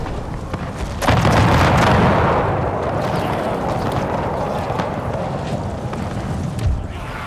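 Legionaries in an Empire Total War Roman mod fire a musket volley, a big booming blast followed by a long rolling rumble of shots and echoes that fades slowly, with scattered crackles after it.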